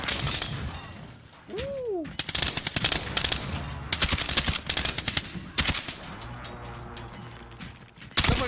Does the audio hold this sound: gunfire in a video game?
yes